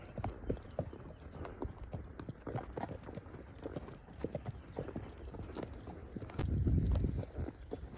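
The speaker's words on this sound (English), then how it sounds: "there's a bunch of horses way up there" A group of horses on trails along the Medina River in Bandera, Texas, hooves clip-clopping steadily at a distance, faint and continuous, with a brief louder rustle near the end.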